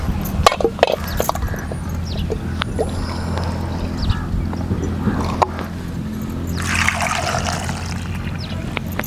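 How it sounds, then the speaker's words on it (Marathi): Water poured into a pot of potatoes set to boil for a fasting-day meal, a steady splashing gush swelling near the end after a few light metal clinks, close and fairly loud. "पाणी घालूया"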